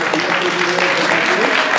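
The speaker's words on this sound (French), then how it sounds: "Allez, on applaudit." An audience at a prize ceremony claps in sustained, dense applause, many hands blending into a steady patter that carries evenly throughout, with faint voices underneath.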